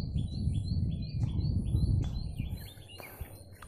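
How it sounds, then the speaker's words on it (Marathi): Birds chirp and trill in short repeated phrases across an open countryside walk near rice paddies, several calls overlapping at moderate distance above a steady low rumble. "निसर्गातील पक्ष्यांचे आवाज"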